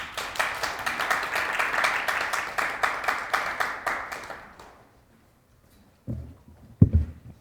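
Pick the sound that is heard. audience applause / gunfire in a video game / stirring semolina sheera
audience applause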